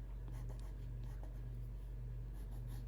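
A colored pencil scratches across paper in soft, quick strokes, adding leaf veins to a hydrangea drawing, over a steady low background hum.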